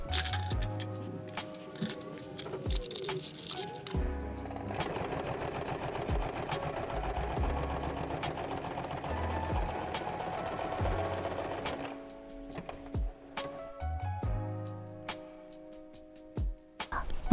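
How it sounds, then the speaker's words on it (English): A sewing machine stitches folded polyester fabric in a mending job, starting with short stop-start bursts, then a sustained run of steady stitching, then more brief bursts with pauses. "So I'm going to just fold and sew it"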